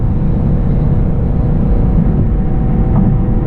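Chevrolet Camaro SS 1LE engine pulling hard under acceleration while driving, a loud, steady low-pitched rumble heard up close with no talking.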